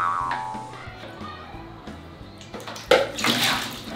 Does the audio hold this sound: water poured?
yes